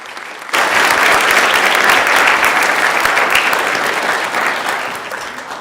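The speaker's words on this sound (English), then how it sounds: "let's give them a round of applause." A crowd on a state senate floor breaks into applause for visiting charter school professionals: dense, loud clapping that starts abruptly, holds steady, then slowly thins toward the end.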